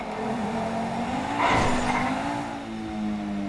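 Car engine revving with tires skidding inside a well of death stunt arena, a loud sustained roar and screech that swells in the middle and stays close throughout.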